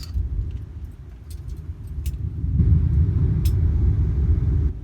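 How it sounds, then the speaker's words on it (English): A storm rumbles in the background as a low, steady roar that swells louder partway through, with a few faint clinks nearby and no talking. "Got a storm in the background."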